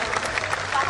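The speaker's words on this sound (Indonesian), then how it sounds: "Sekali lagi dong tepuk tangan" A television studio audience applauds for Basuki, a dense sustained wash of clapping from a crowd, with a host's voice over it.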